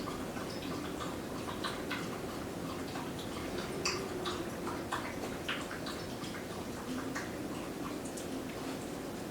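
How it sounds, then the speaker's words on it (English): Quiet, irregular clicking and crunching of a dog chewing food, close by, over a low steady background hum. "you'll probably hear the dog chewing on her food"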